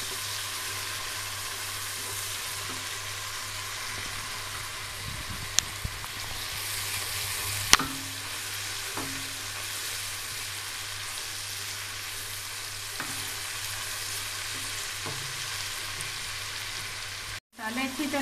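Spices with dry coriander and garam masala roasting in a pan give a steady, soft sizzle with occasional light stirring scrapes, fairly quiet and continuous.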